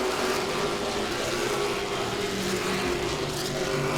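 Late model race cars roar off the green flag at the start of a race at Langley Speedway, a dense, steady wall of engine noise from the pack with no talk over it.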